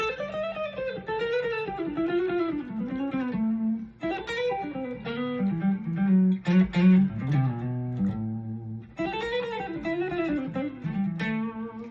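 An electric guitar plays a flowing melodic lick in repeating phrases with sustained, bending notes, heard alone and up close.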